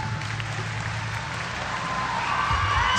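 Polite ripple of applause from a concert audience at Benaroya Hall during a show, steady and moderately loud throughout, swelling slightly toward the end.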